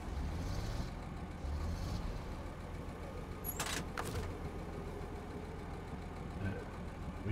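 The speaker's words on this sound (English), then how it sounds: "we will stop our engine actually." A truck engine idling in SnowRunner, a low steady rumble throughout with a brief hiss of air partway through, fairly quiet with no talk.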